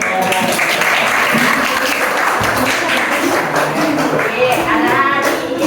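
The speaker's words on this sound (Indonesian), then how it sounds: "beri tepuk tangan untuk" Classroom applause from a group of students after group presentations in an Islamic religious education lesson on Hajj and Umrah, steady broadband clapping running the whole stretch with voices mixed in.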